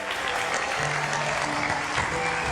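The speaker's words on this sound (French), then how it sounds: "on va applaudir pour José" Clapping from an audience applauding a guest at a concert-related gathering, a busy crackle of hands with a few voices and tones mixed in.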